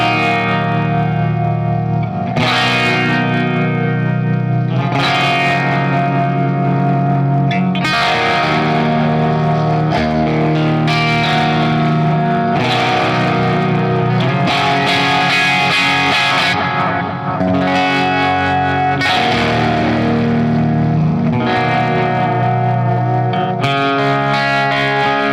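Clean electric guitar chords with tremolo through a Bad Cat Jet Black amp, loud and alone, ringing out in several strummed phrases with pulsing, wavering sustain.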